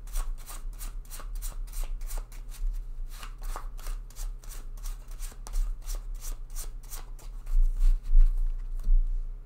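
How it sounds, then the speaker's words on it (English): A deck of oracle cards is shuffled by hand in a rapid, steady run of crisp riffling flicks, close and fairly quiet, building slightly louder near the end with no talking. "Here is our oracle card, and I'm also going to take a couple of cards from my deck"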